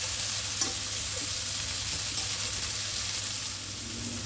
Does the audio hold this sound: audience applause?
no